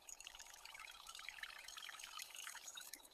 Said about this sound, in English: I add plenty of water.